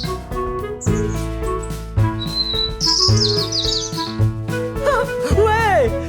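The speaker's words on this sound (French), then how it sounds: "C'est un oiseau!" Bird chirping in a forest, bright high tweets and trills heard over a loud continuous musical backing and speech-like sounds, with several distinct chirps and a rising whistle toward the end.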